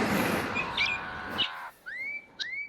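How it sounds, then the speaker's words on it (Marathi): Several bird calls ring out in farmland: short chirps over a rushing background, then clear rising whistled notes once the noise drops away, fairly near. "पक्षी आणि प्राण्यांचे आवाज येत आहेत"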